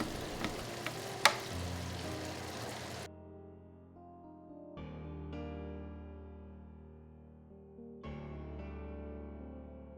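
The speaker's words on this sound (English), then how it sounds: "Allow the mushrooms to cook down for about 3 to 4 minutes, stirring occasionally" Baby Bella crimini mushrooms sizzle in a stick of melted butter, a soft crackling hiss with a few sharp pops for about three seconds before music takes over.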